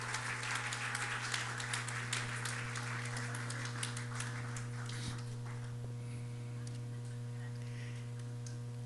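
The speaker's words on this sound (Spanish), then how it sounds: "Vamos a darle un fuerte aplauso a Luca, a Vania y a Xochitl." A church congregation applauds birthday celebrants, a fairly quiet burst of clapping that fades after a few seconds over a steady electrical hum, with scattered claps and room noise continuing as it trails off.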